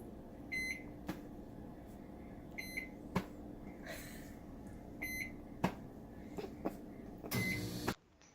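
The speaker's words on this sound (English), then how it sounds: "Place glass in microwave for 2 minutes." A microwave oven heating ice in a glass hums steadily, with periodic electronic beeps and a brief clatter, then the hum cuts off abruptly at the end.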